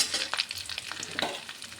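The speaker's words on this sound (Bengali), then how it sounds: "এখন ওই আলু পটল ডিম ভাজা তেলের মধ্যে দিয়ে দিলাম গোটা গরম মশলা আর তেজপাতা।" Whole garam masala and bay leaves crackle and sizzle in hot oil left from frying potatoes, pointed gourd and eggs, with irregular sharp pops and a steady frying hiss up close.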